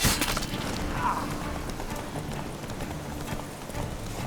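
Horse hooves clip-clop steadily in The Witcher 3 video game, a continuous rhythmic run of clear hoofbeats over a busy, noisy in-game background.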